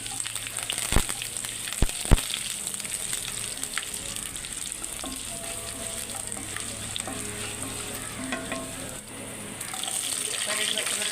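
Green chillies with coriander seeds, garlic cloves and curry leaves sizzle and fry steadily in a pan, with a few sharp stirring knocks near the start and a continuous crackle throughout, no talk over it.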